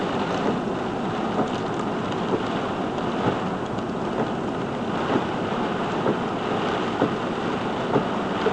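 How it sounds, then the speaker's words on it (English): Heavy rain pounds on a car driving at night, a dense, constant roar of drumming water and road noise with no pauses, loud and steady throughout. "Looks like people are pulling over and not even driving because of how bad the rain is."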